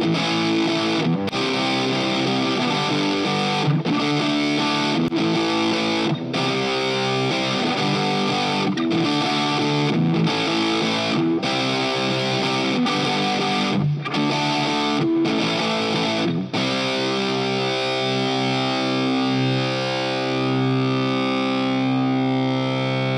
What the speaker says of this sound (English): And it takes distortion really well,